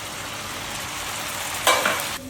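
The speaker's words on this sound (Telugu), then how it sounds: "కొంచెం వాటర్ వేసుకుంటున్నా." Water splashes into a hot pan of chicken korma, a steady frying hiss bursting into a louder, brighter sizzle near the end, then cutting off sharply.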